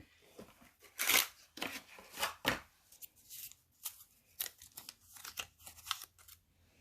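Craft snips cut paper for a stamped card, giving a string of crisp, close snipping bursts, several quick cuts in a row with brief pauses between them; no one speaks.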